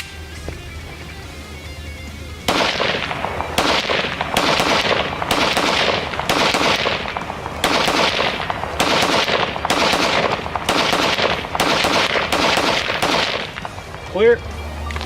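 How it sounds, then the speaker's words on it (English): A Ruger 57 pistol fired outdoors in the desert: about a dozen sharp, loud gunshots in a fairly even, rapid string, each with a brief echoing tail, after a short quiet stretch of ambient wind. "I just shot the Ruger."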